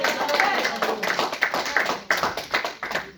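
A church congregation claps in a steady, rhythmic beat, with sharp hand slaps repeating at a moderate distance and voices mixed in among them.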